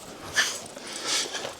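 Dog whimpering and sniffing in a rural creekside paddock near a barbed wire fence, a couple of brief high whines and soft snuffles at close range, fairly quiet with outdoor background.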